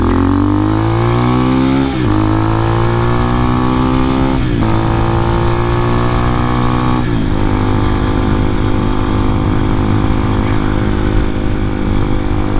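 X-Pro Hawk DLX 250 motorcycle being ridden, its engine loud and close throughout, revving up through the gears in rising sweeps with shifts at about 2, 4.5 and 7 seconds, then holding a steady drone.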